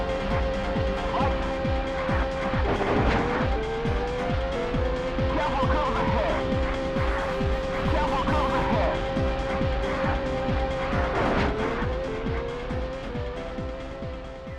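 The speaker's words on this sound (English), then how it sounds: "power slide around tight corners, open her up on long straights" Rally cars power sliding in the arcade game Drift Out: a sustained, buzzy engine whine bends in pitch through the corners, with repeated tire squeals and skids, while a voice talks over it.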